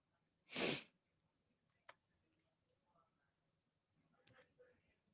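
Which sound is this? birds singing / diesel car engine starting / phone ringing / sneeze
sneeze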